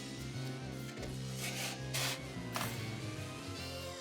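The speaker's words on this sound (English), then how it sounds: "Then use duct tape to stick them together around the container." Duct tape is pulled and wrapped around a styrofoam cooler, making several short rasping rips and stretches at close range over soft background music.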